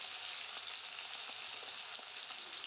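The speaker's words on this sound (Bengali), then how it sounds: "প্রথমে আমি সর্ষের তেলের মধ্যে মাছগুলি দিয়ে দিচ্ছি। মাছগুলি দিয়ে একটু ফ্রাই করে নেব" Pomfret fish frying in mustard oil in a kadai, a steady bright sizzle that stays close and even throughout, with no talking.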